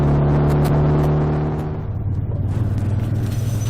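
A motor trike with a bigger engine accelerates uphill on a Moonshiners MCC run toward Porlock. Its engine drones loudly and continuously close by, shifting pitch as the throttle opens.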